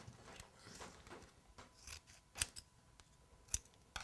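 Scissors cut a crown shape out of paper decorated with gold marker, giving sparse, quiet snips and rustles with a few sharper clicks, alone.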